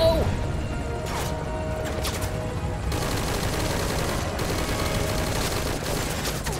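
Gunfire in the video game Metal Gear Solid V: Ground Zeroes crackles in bursts over a dense battle din, with sharp bangs and clatters standing out and a voice speaking over it.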